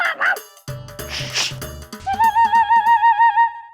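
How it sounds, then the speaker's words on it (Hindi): Several stray desi dogs gathered outside a police post bark and whimper in short bursts, then a long wavering howl rises and holds near the mic, loud and alone with no talk over it. "पता नहीं सर कहाँ से चौकी के बाहर 8-10 खूंखार देसी टाइप के आवारा कुत्ते जमा हो गए"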